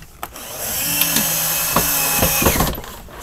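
A power drill drives screws into the mounting bracket of an RV roller shade, giving a steady whirring hum broken by several short sharp knocks as the screws seat, close and fairly loud with no talking.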